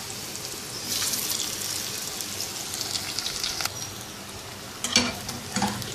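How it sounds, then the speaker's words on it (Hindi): Mutton chops fry in a pan over medium heat, a steady soft sizzle with a few sharper crackles and pops near the end, close and without talk. "ये चॉप्स डालेंगे और इनको नाइस गोल्डन कलर में फ्राई कर लेंगे"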